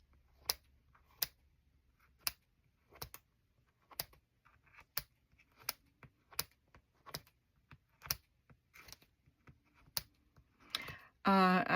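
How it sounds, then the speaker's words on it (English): Scissors or a craft blade cutting the signatures out of an old journal being rebound: sharp, separate snips and clicks at a loose, uneven pace, close and fairly quiet, with a louder rustle of paper at the very end. "I'm going to cut the signatures out."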